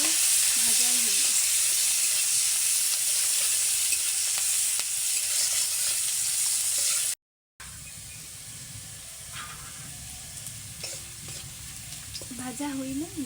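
Onion, chili and garlic frying in a pan for a fish egg and potato dish, giving a loud steady sizzle and hiss close by, with a short break and a quieter crackling stretch afterward and occasional faint voices.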